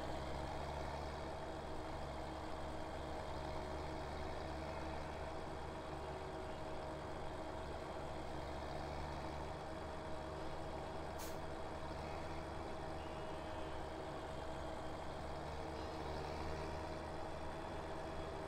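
Steady low engine drone of a broken-down tractor in Farming Simulator on the BallinCraig Estate, a continuous rumble with a faint whine holding evenly throughout, no speech over it.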